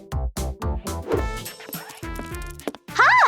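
Dog yips and whimpers in a quick run of short, loud bursts, ending in a rising whine, with a little talk in the background; the dog is sick with a large splinter.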